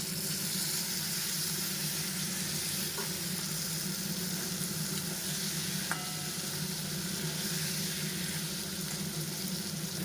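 Green chillies and fried ridge gourd sizzling in a pan, a soft steady hiss and crackle with faint stirring, one small clink midway, no voices.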